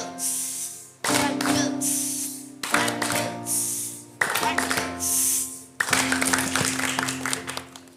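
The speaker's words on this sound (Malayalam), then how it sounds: "കുരിശ് മൊത്തമായി കഴിയുമ്പോൾ പിന്നെ ഒരു ബിഗ് ക്ലാപ്പ് കൊടുക്കണം" Group clapping in a church children's program, a cross-clap routine with bursts of clapping separated by short pauses and a final big clap, with voices calling out between bursts.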